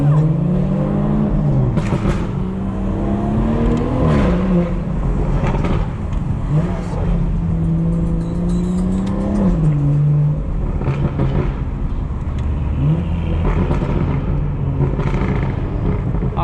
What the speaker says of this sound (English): I don't know what car that is though. It sounds like my car